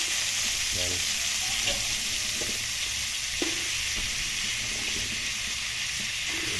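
String beans sizzling in a pan for pork adobo make a constant hissing fry with a few soft knocks and stirring sounds; no talking.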